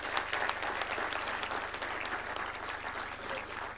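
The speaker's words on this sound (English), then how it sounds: "Let's give them a big round of applause." A large audience claps steadily at a University College of Medical Sciences convocation ceremony, a dense, even wash of applause filling the hall throughout.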